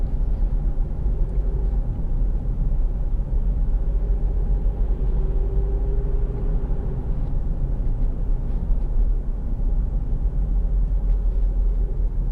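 A Land Rover Freelander 2 2.2 Td4 diesel engine idles smoothly, a steady low rumble with a faint hum running unbroken throughout, no voices.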